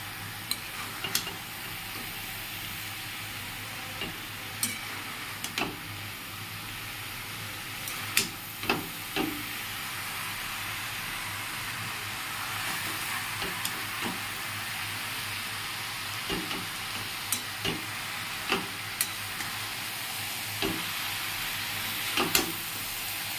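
A spatula scrapes and stirs food in a kadai after the lid is lifted, sharp scraping strokes recurring every few seconds over a steady sizzle and hiss of frying.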